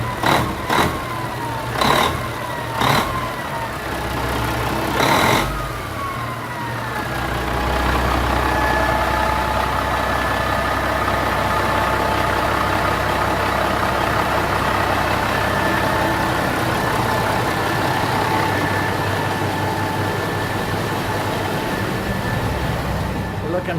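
A Caterpillar 3406C diesel engine fresh from a cold start idles on a dyno with a pneumatic throttle, a deep steady rumble with a few sharp clanks early on, then a louder sustained drone.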